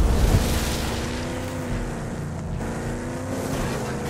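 A car engine drones steadily while driving in Rage 2, a loud, continuous motor hum with shifting pitch, heard alone with no talking.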